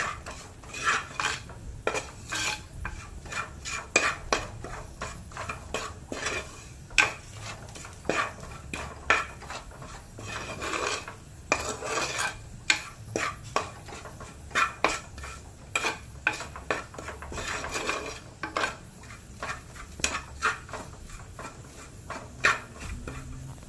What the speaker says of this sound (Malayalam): മസാല നന്നായിട്ട് മൂക്കുന്നത് വരെ ചട്ടിയിലിട്ട് വഴറ്റാം